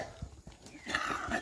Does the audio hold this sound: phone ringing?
no